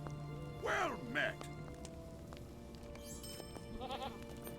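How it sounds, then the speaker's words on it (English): A goat bleats twice in quick, wavering cries in the video game Lord of the Rings Online, followed by a fainter third bleat over quiet ambient background. "Goat."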